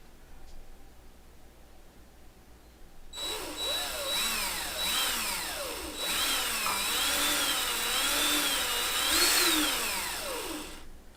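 A power drill spins up after a few seconds of quiet, then whirs close and loud, its pitch rising and falling as it revs repeatedly before cutting off. No one speaks.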